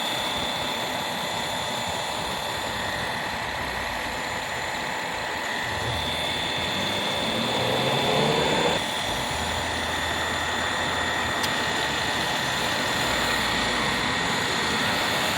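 A car's engine idles steadily while the AC compressor kicks on partway through with a low-Freon system being recharged, giving a continuous close mechanical hum that thickens slightly as it engages.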